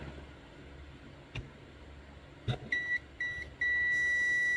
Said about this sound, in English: if I check in the multimeter in the buzzer mode, you can hear the sound here